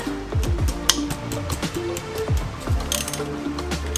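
A ratchet clicks in short bursts while loosening the transmission drain plug on a VW MK4 GTI, with close, quick pawl rattles spread over a few seconds.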